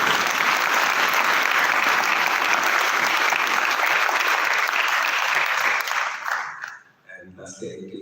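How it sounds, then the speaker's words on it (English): A large audience at a devotional concert applauds musicians and singers from Mauritius with loud, sustained, dense clapping that fades out near the end, leaving quieter room sound. "From Mauritius, let's give a big round of applause for these"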